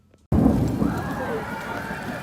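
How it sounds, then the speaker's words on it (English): Rain and thunder at Magic Kingdom, a steady hissing downpour that starts abruptly and rumbles on, with a person talking over it. "there's thunder and it's raining"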